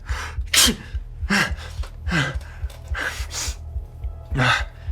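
A series of sharp sneezes, about five, each a sudden burst with a breathy onset, spaced roughly evenly over a steady low hum.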